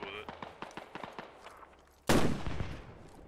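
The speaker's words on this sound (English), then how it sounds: "That's a sniper." Sniper rifle shot in a Squad video game match, Canada versus USA invasion: a sudden loud crack with a long rolling echo, preceded by a rhythmic run of footsteps and light gear clatter.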